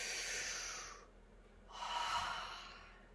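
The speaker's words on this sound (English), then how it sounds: "So take a nice deep breath." Two slow, deep breaths, a long airy inhale and then another, close and clear with a quiet pause between them.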